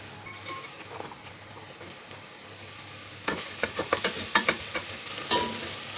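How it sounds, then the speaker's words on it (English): Onion sautéing in a little oil for Filipino arroz caldo, a steady soft sizzle that grows louder midway, with a spatula stirring and scraping the pan in a run of quick clicks. "put a little bit oil. We saute onion."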